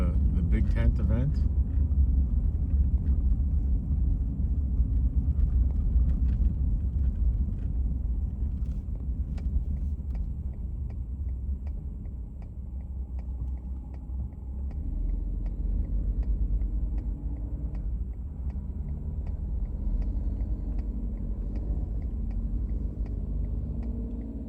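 Road traffic passing at a busy Quartzsite desert gathering during a big tent event, a steady low rumble of car engines that swells and fades over about twenty-five seconds, while a person talks over it.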